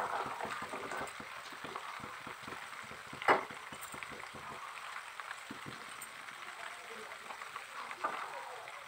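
Butter simmering in a pan as it turns into ghee, giving a soft continuous bubbling crackle of small pops with one sharper utensil clink, faint and close.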